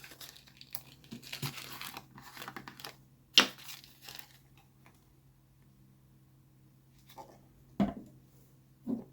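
A coffee filter being torn by hand crinkles and rips softly up close, with scattered crumpling and a few sharp paper snaps between quiet pauses against a low steady hum, no talking.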